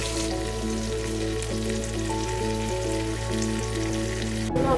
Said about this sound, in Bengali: আলুগুলোকে ভালো করে ছাঁকা তেলে ভেজে নেবো।